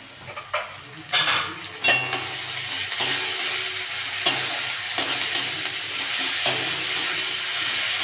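Ginger garlic paste frying in oil in a pan while cooking a tilapia curry, a steady sizzle broken by spatula stirs and scrapes against the pan, close and clear, with no talking.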